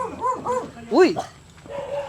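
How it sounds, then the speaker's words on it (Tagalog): A dog at a house gives several yipping, whiny barks close by, mixed with people talking nearby. "Hindi nangangagat yung aso."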